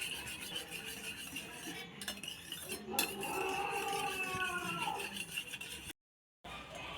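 A spoon stirs the egg chukka mixture in a pan, with quiet scraping and scattered metallic clinks and rattles, plus a brief silent gap near the end.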